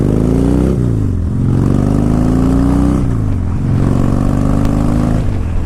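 A Harley-Davidson Heritage Softail's engine runs loud and near with a deep, lumpy idle, blipping its revs up and down a few times in a smooth rumbling rhythm.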